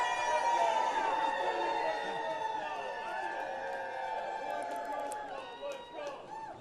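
Dense crowd noise fills a stock exchange trading floor on Friday, a loud, steady roar of cheering and chatter that holds throughout and gradually thins toward the end.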